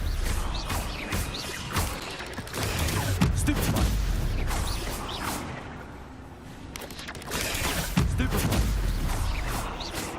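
Spells fly in quick succession during a Harry Potter video game battle against spiders, a dense run of bursts, whooshes and impact thuds over a steady game soundtrack.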